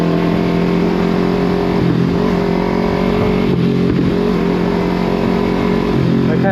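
A motorcycle engine runs loud and close with a steady, throaty drone that swells slightly a few times, with no speech.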